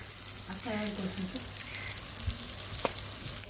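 Punugulu fritters frying in hot oil, a steady sizzle and crackle near the pan with some clinks and a brief voice-like murmur in the background.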